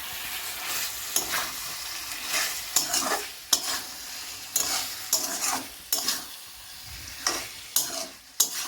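Chicken cooked with tomato sauce is stirred in a sizzling pan: a spoon scrapes and knocks against the pan in irregular strokes over a continuous frying hiss, with no voices.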